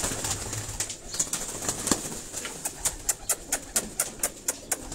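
Pigeons on a rooftop in Defence, Karachi give faint cooing, then a run of soft rhythmic flapping pulses near the end, with no talking over them.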